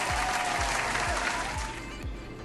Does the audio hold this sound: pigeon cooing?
no